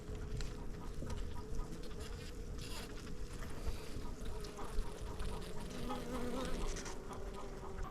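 Honeybees hum in a steady, dense drone at a hive being winterized with sugar, close and continuous with no pauses.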